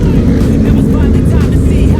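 Big motorcycles revving during a MotoGP parade: a loud, dense, continuous engine roar close by, steady throughout the short stretch.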